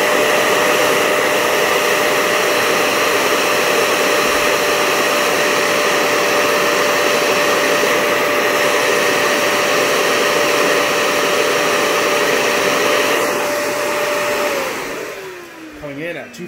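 A Dyson Ball Animal Pro vacuum cleaner runs loud and close as a steady roaring whoosh with a constant motor whine, then winds down near the end as it is switched off.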